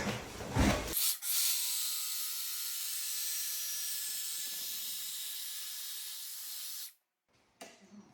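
Steady abrasive rasping as the edge of a wooden floor piece is beveled, a continuous loud scraping for about six seconds that stops abruptly, followed by a brief faint knock.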